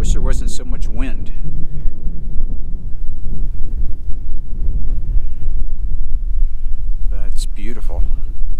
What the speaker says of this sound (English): I wish there wasn't so much wind.